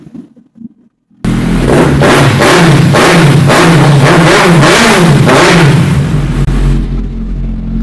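A superbike engine barks to life and revs repeatedly in rapid bursts, loud and close, then settles toward a rumbling idle.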